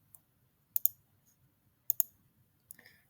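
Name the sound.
mouse clicking in database form design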